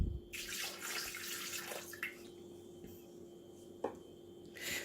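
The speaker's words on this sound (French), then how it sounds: "Je vais ajouter l'eau." Water pours into a Thermomix bowl for crêpe batter in a quiet, close trickling stream, with a few soft clinks along the way.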